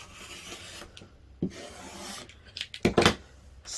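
Rotary cutter trimming the edges of a fabric half rectangle triangle quilt block, heard as a few short, close scraping slices with a stronger cut near the end.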